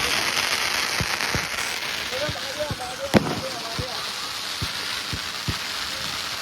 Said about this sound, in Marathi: वरती बघा फटाके.